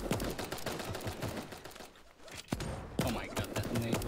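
A grenade explodes during a round of Super Animal Royale, with blasts punching through dense gunfire-like game noise while a voice talks over the action.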